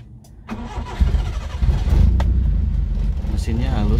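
A 1990 Honda Civic Grand Nouva SH3, said to have a freshly rebuilt engine, cranks and fires up, then settles into a steady, smooth running hum close by, with voices talking over it.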